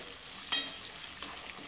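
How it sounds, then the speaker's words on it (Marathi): Bay leaves and cloves sautéed in hot oil for masala khichdi: a quiet, steady sizzle with soft stirring, one brief louder clink or scrape early on, and no talking. "हे 2 तेजपत्त्याचे पानं आणि 2 लवंगा सर्व मिश्रणाला परतवून घेते।"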